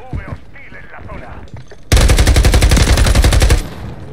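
Rapid automatic gunfire in Call of Duty MW3 on Xbox Series X, a loud sustained burst of closely spaced shots lasting under two seconds, preceded by a short stretch of game sounds and murmur.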